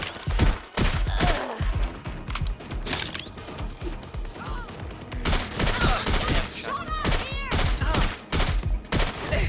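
Gunfire from the video game Watch Dogs: Legion, a dense, chaotic fusillade of repeated shots and impacts mixed with game effects, loud throughout with some brief voice underneath.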